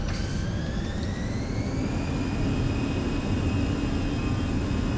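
Jet engines on an airliner in a flight simulator game spool up for takeoff, a loud steady roar with rising whining tones that climb and then level off as the thrust builds, with no voices.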